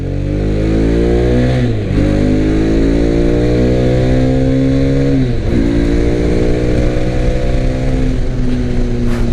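A 2021 Hero Mojo 300 ABS BS6 motorcycle cruises on a highway near 100 km/h, its engine droning loud and steady with a few brief dips and rises in pitch as the rider shifts.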